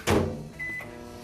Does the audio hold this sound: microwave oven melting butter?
yes